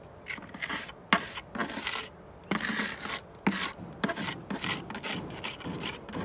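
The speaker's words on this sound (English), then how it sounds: "Just fill in the gaps under your undercloak with your 3-in-1 mix." A trowel works 3-in-1 mortar mix into the gaps under a roofing undercloak, making repeated gritty scrapes and rubs in an uneven rhythm, close up and clear with no talking.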